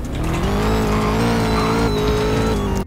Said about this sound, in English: that supercharger is... I don't know, man. Weird? Why is it so high-pitched?